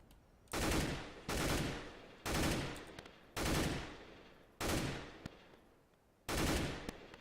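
Rifle spray bursts in the video game CS:GO, six loud sustained volleys of rapid automatic gunfire separated by short pauses, each burst starting abruptly and fading slightly.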